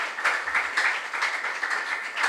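Dense, steady applause from a crowd at a junior science and maths quiz, many hands clapping continuously with slight swells, no voices heard over it.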